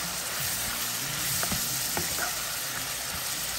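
Spinach and kale seasoned with black pepper sizzle loudly in a pan as they are stirred, with several light scraping strokes over a constant frying hiss.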